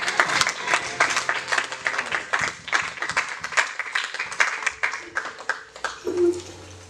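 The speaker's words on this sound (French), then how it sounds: "Faut t'acclamer très fort." Church congregation applauding loudly, a lively stretch of dense clapping with distinct claps standing out, tapering off near the end as a voice begins.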